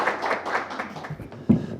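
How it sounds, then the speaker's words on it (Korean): Brief scattered clapping from an audience at a National Assembly forum on drones in Korea, a few claps heard close and moderately loud with a louder burst near the end. "큰 박수 부탁드립니다"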